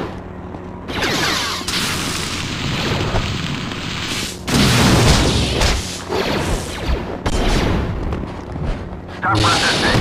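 Ship weapons fire and explosions in Star Wars: The Force Unleashed, a dense, continuous barrage of booms and crashes with voices talking over the battle.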